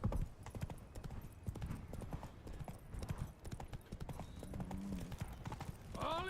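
Hooves of Roach, a horse in The Witcher 3 video game, clip-clop in a steady trotting rhythm, moderately close, with a brief whinny-like tone near the end.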